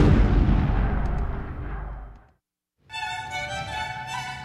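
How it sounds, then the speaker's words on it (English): Heavy wartime bombs and cannon fire boom in a deep rolling blast that fades into a long decay, then after a short silence a harsher, crackling burst of artillery fire erupts. "the sounds of bombs and cannons replaced the cheers of fans across Europe"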